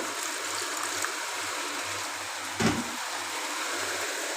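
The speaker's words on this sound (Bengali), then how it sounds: "এবার মিক্সি বাটিটা জল দিয়ে ভালো করে ধুয়ে এর মধ্যে দিয়ে দেব" Water sloshes and pours steadily while a mixer grinder jar is rinsed and emptied into a pan of cooking prawn malai curry. A brief louder splash lands near the middle.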